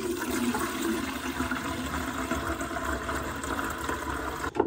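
Water from a watering can pouring steadily into a sink, a loud continuous splashing gush with no talk, stopping abruptly at the end.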